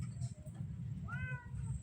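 A cat gives a single clear meow close by, faint against a low background rumble.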